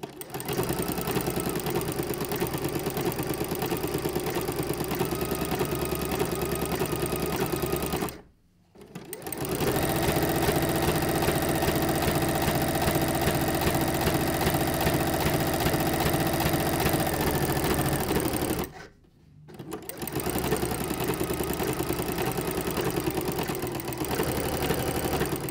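A sewing machine fitted with a ruffler foot runs steadily, stitching and gathering fabric into ruffles, a loud continuous mechanical whir that halts briefly twice before starting again.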